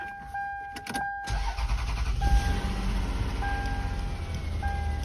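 A 1996 Toyota Camry wagon with a 1MZ-FE V6 and a sticking accelerator linkage starts with a crank and catches, then runs at a steady high idle close by, while a repeating chime beeps over the engine.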